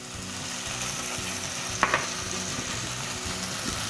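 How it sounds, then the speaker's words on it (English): Tomatoes frying in a pan for Gujarati dal dhokli, a steady sizzle with a couple of stirring scrapes near the middle, no voices. "So give this a stir until the tomatoes lightly soften"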